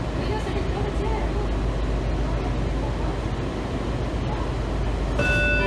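Inside a moving Washington Metro Kawasaki 7000-series car, the wheels and motors give a constant low rumble, and a brief rising electronic tone or chime rings out near the end.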